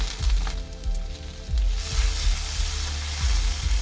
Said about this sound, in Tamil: வெங்காயம் வதங்கினோன்னு இஞ்சி பூண்டு பேஸ்ட் போடலாம்.